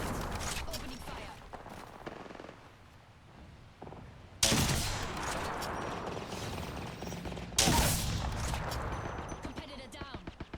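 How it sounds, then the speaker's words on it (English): Gunfire in Apex Legends during a competitive esports match: sustained automatic bursts starting abruptly midway and continuing in rapid rattling volleys, with game mechanisms and voice lines around them. "Opening fire."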